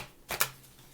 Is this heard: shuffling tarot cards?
yes